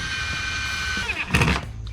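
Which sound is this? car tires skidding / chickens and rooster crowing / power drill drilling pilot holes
power drill drilling pilot holes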